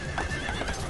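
A horse neighs in Prince of Persia: The Sands of Time, a short, loud, close whinny with a wavering high pitch lasting under a second.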